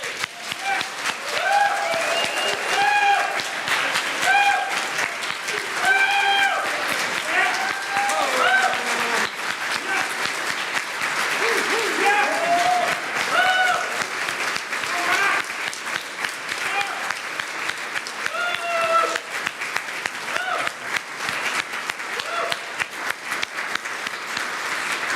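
Mourners at a memorial service give a long, steady round of applause that fills the room, with voices audible through the sustained clapping.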